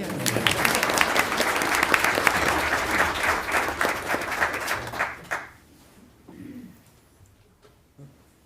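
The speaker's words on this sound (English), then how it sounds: "A round of applause for the kids." Parents and officials at a school board meeting applaud the kids in a loud burst of clapping that fades after about five seconds, leaving a quiet room with a faint voice and scattered sounds.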